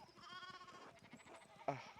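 Sheep bleat in the video game Pentiment. A wavering bleat comes close up in the first half, followed by a short sharper bleat near the end.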